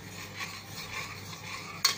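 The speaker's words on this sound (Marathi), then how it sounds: "आता मी हे छान ढवळून घेणार आहे" Sweet coconut rice with fried cashews and raisins being stirred in a pressure cooker, giving soft, steady scraping and stirring sounds with a faint sizzle underneath and one brief sharper clink near the end.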